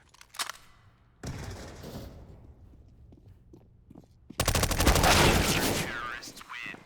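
AK rifles fire in Counter-Strike: Global Offensive: a brief early shot, then a sustained burst, and later a louder, dense volley of rapid automatic gunfire during a competitive match.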